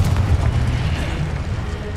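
A booming Confringo blasting spell explosion in the Hogwarts Legacy video game, a loud low burst with rumbling decay over about two seconds, no talking.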